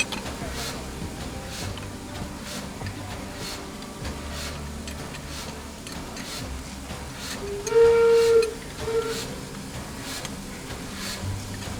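A steam locomotive hisses and rumbles faintly at rest, then gives a short, sharp whistle blast midway through, followed by a tiny second toot.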